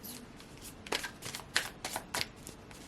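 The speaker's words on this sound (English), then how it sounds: "I'm just going to pull one final card" Tarot or oracle cards are shuffled by hand for a card reading, with a series of soft, crisp riffling bursts at an uneven rhythm, close and fairly quiet.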